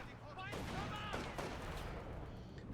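Machine gun fire in a Company of Heroes 2 battle between two light machine guns in heavy cover: dense rattling bursts mixed into constant battlefield noise, with a voice talking over it.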